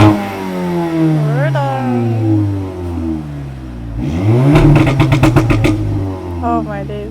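A 550 bhp car revs hard on a fast road in London, with a loud, rising engine roar, repeated rev sweeps and a deep rumble, heard from inside the car.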